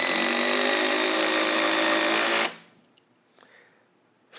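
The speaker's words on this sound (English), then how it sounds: "Even as we finish driving the screw and where it's setting the head" A Milwaukee M12 FUEL Surge hydraulic impact driver runs loud and steady for about two and a half seconds, driving a 2.5-inch number 8 wood screw, then cuts off abruptly into near silence with faint knocks.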